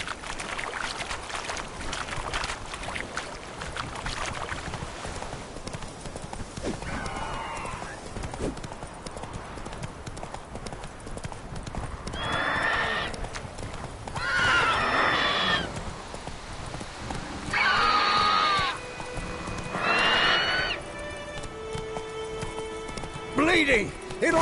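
The horse Roach gallops in The Witcher 3, a quick continuous clip-clop of hooves running under game effects, with bursts of louder sound and a voice speaking at times.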